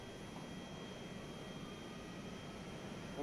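A Boeing 737-200 engine spools up in a flight simulator, a steady broadband drone holding even throughout with no talk over it.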